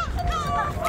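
Birds call at Dolmeori Beach in Hampyeong-gun, a short burst of nasal, honking cries, close and clear, lasting about a second.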